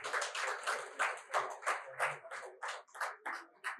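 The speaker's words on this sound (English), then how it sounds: "let's give him a big round of applause." Applause for a doctor at a wellness conference: irregular, fairly sparse hand clapping from a small group, coming in uneven bursts that rise and dip.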